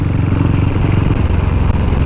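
A Velocette Venom motorcycle engine runs just under 3,000 revs while riding, a loud, steady, throbbing drone with continuous mechanical clatter and no break.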